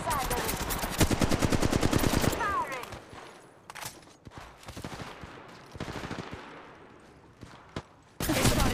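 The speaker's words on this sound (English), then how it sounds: "Firing! They spotted me. I'm taking shots." Rapid automatic gunfire in Apex Legends Mobile rattles in loud, dense bursts for the first two seconds, gives way to scattered single shots and quieter stretches, then returns as a heavy burst at the end.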